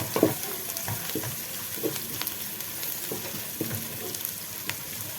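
Ingredients for country chicken rasam sauté in a pan with a constant close sizzle, punctuated by repeated spatula scrapes and taps throughout.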